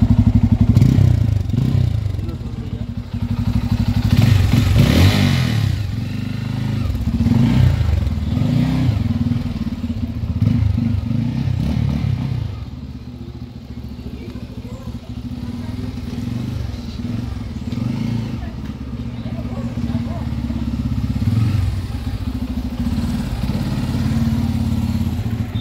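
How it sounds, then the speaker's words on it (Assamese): Second-hand motorcycle engine running close by, a steady mid-pitched putter that rises and falls with revving and clatter over about twenty-five seconds, no talk over it. "মই চলাই দেখুৱাম এতিয়ালৈকে গাড়ীৰ ইঞ্জিনৰ আৱাজটো চাওক"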